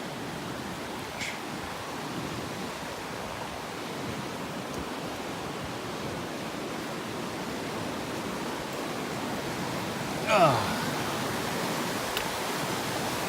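A mountain creek on the Skyline trail in Jasper National Park rushes steadily, a broad constant wash of flowing water with no pauses, close and even throughout, with a brief sharp knock near the end.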